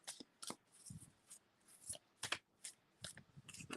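Quiet, crisp tarot card shuffling: soft riffles and flicks in irregular bursts, close up, with no voices.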